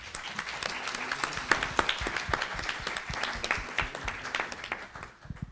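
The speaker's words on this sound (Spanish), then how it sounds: "Les damos un aplauso." An audience at an international philosophy congress gives the panelists a warm round of applause: a steady stream of many hands clapping that fills the room, then thins out at the very end.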